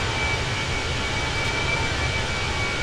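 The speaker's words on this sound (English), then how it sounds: "Can you hear it sort of like spooling to try and keep up?" Jet engines of a Fenix A320 in Microsoft Flight Simulator 2020 roar steadily with a continuous broadband whoosh and a thin high whine, loud and unbroken, with no talking.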